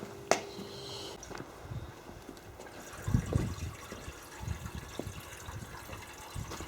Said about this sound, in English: Water, top up with water.